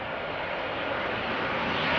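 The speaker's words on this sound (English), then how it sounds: "And this is Transavia flight 5466. Arriving from Verona" A Transavia airliner arriving at Schiphol Airport roars with a broad, steady engine rush that swells slightly toward the end, continuous and moderately loud with no talk.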